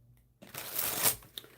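A tarot deck with linen cardstock is shuffled once up close: a short riffling swell of cards rising and cutting off, then a small tap.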